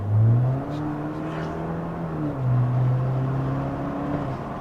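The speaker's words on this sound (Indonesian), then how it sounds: "Tuh, suara turbo di depan, suara muffler di belakang." A modified BMW 528i with a high-spec N20 turbo engine and aftermarket muffler idles and revs, its steady low drone rising and falling in a few moderate swells, heard alone without any talk.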